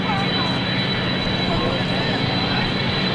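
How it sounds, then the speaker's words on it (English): A C-9B Skytrain jet climbs out at an airshow with a steady, loud, broadband engine roar that holds throughout, while a person talks over it. "As you're climbing out now in the C-9, you're going to be staying in a close pattern work."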